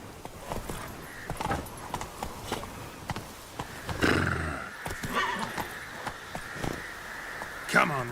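Roach, the horse in The Witcher 3, moves at a galloping clip-clop under a short neigh midway, with someone talking over the hoofbeats and game sounds.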